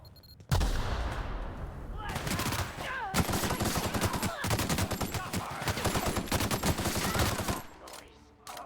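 Gunfire rattles in the sci-fi shooter game The Outer Worlds, a loud burst followed by long stretches of rapid automatic fire and explosive blasts, with a voice speaking over parts of it.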